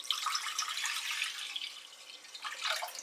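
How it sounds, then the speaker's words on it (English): Twenty-four ounces of water poured from a container into a cooking pot, a short, faint, bright splashing stream heard close and alone. "we're going to add all 24 ounces of the water"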